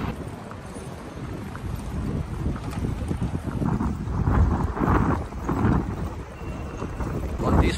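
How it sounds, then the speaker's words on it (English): Wind buffets the microphone while riding a bicycle through Taipei, a steady low rumble with gusty swells growing stronger midway and continuing throughout. "So I'm just enjoying the wind and the bike."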